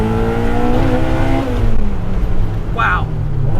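A K20-engined Honda Civic Type R EP3 accelerates hard, its loud engine note climbing steadily through the revs, dropping at a gear change, then pulling again from close by.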